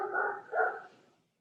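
Dogs bark during a board meeting, two bursts of barking at moderate volume with no talk over them.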